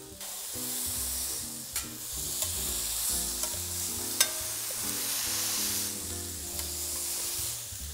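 A hamburger patty fries in a skillet with a continuous crackling sizzle, accented by occasional sharp pops and a low tonal hum underneath, and no talking.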